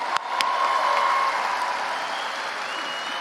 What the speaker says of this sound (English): Come on, let's give them an applause.